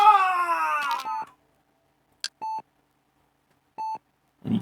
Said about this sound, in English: And you can hear the beeping, the heart monitor there does start to tick a little bit faster